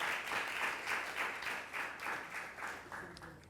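Applause from an audience at a stage show, a dense wash of clapping heard at moderate distance, steady throughout with slight swells.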